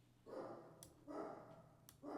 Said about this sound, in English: Sorry if you can hear the dogs barking.